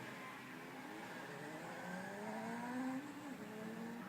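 A Zero electric motorcycle accelerates with a rising whine that climbs steadily in pitch, then eases and rises again, fairly faint under a layer of road noise.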